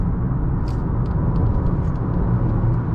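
2020 Honda Accord EX-L with the 2.0-liter turbo engine driving through a handling test, a steady low road and engine rumble from inside the cabin, with faint ticks and clicks over it.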